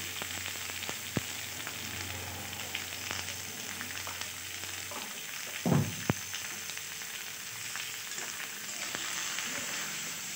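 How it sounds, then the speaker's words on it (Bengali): Mixed vegetables with salt and turmeric sizzle steadily in a hot pan, with occasional stirring scrapes and a louder clatter midway. "এবারে সবজিগুলো ভালো করে একটু ভেজে নিতে হবে।"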